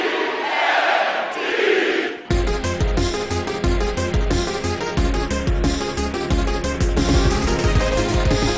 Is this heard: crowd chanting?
yes